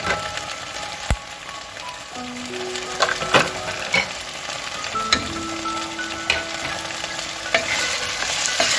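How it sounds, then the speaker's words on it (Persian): Tomato paste sautés in a pan with a bay leaf and a cinnamon stick, giving a steady close sizzle broken by occasional stirring scrapes and taps. "خیلی خوب اینا رو قشنگ با هم دیگه تفت بدیم تا این رب رنگ باز کنه و بوی خامیش گرفته بشه"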